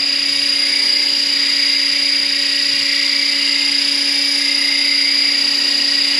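RC scale Bell Huey 412 model helicopter running at half throttle, a loud, steady high-pitched motor whine with constant rotor hum, close and unbroken throughout.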